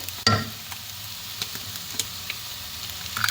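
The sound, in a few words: beaten egg sizzling in pan for bread kottu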